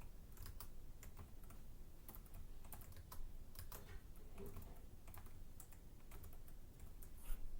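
Rapid, irregular keystrokes on a Finnish-layout computer keyboard clatter close by in quick bursts with short pauses, and one sharper clack lands near the end.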